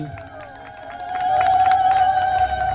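A crowd at a post office inauguration ceremony in a bazaar ululates, a sustained high wavering tone that swells and holds loud, mixed with cheering and clapping.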